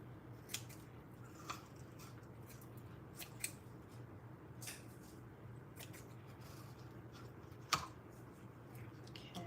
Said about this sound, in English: I'm just gonna cut them all at once.